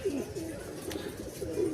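Soft, low cooing from a pair of Punjabi pigeons runs continuously in gentle rolling phrases, close by and fairly quiet.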